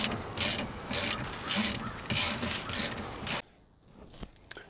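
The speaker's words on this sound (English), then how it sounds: "So I just screwed on the caliper" Ratchet wrench cranking a brake caliper bolt tight: about six quick bursts of dense clicking, close and loud, then stopping into quiet handling noises.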